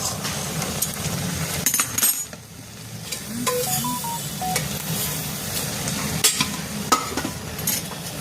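Sugar and mawa are stirred into boiling milk in a pan for a sweet halwa, a spoon scraping and swishing steadily over a soft bubbling sizzle, with a few light metallic clinks.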